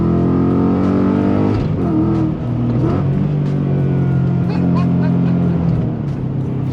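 Modern Ford Mustang muscle car V8 accelerating, a deep steady engine drone that shifts pitch partway through, heard under someone speaking.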